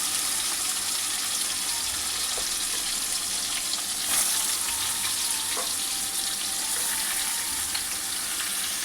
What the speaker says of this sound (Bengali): এবার আমি বাঁধাকপিগুলো ভেজে নেব।